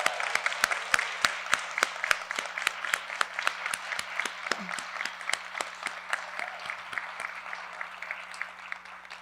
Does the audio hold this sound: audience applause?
yes